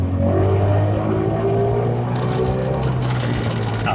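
A Subaru 360 'Ladybug' with its 25-horsepower engine drones steadily and loudly from inside the moving car, with a constant hum that is not masked by talk.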